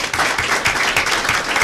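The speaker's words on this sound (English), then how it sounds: "Let's give them a round of applause." A round of applause from the audience at a county board of education meeting, many hands clapping steadily and fairly close for a short stretch.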